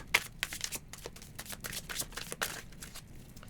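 Tarot cards shuffled by hand, a quick series of crisp riffling and slapping bursts repeating steadily, close and fairly loud, with no one talking.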